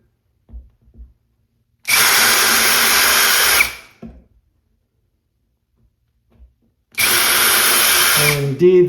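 A power drill bores a small pilot hole into a hollow wall for a towel bar anchor, two loud bursts of whining drilling of about two seconds each, separated by quiet handling clicks.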